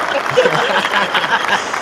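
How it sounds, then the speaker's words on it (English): Canned applause sound effect played on a livestream: a dense burst of many hands clapping at steady loudness for about two seconds, with faint voices underneath. "That's Chris's favorite claps"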